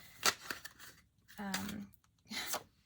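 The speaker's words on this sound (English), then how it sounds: "If you want to fast forward me shuffling, go ahead." Tarot cards being shuffled by hand in irregular riffling and sliding bursts, close up, with a voice speaking briefly among them.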